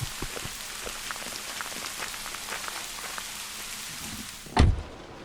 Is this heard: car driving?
no